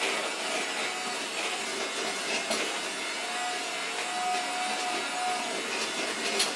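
Cake batter is mixed in a bowl, with soft, continuous rubbing and scraping as a utensil works down to the bottom and around the edges. The mixing stays steady and fairly quiet, with no voices.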